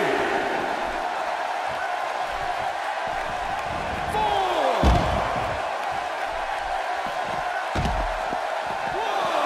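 A wrestling arena crowd in WWE 2K18 roars in a dense, steady wash of cheering, with a few heavy slams and swells rising above it.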